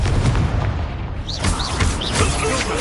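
Confringo explosive spell cast in the Hogwarts Legacy video game: a dense, loud run of booming blasts and crackling bursts, with whooshing spell effects layered over the rumble.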